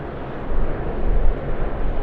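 An airliner taking off from runway 25 at Sydney Airport, a loud broad engine roar swelling and holding steady as the aircraft powers down the runway.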